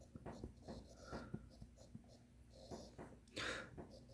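Marker or chalk writing out an equation on a board, with soft scratchy strokes and taps in an irregular rhythm, fairly faint, as someone talks quietly between strokes.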